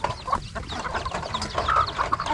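Chickens cluck and chatter in a busy farmyard, several birds calling over each other at moderate distance with scattered background noise.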